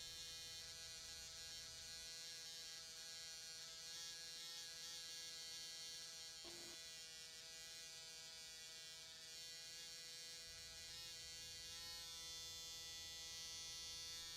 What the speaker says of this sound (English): close attention to the vibration of your machine is necessary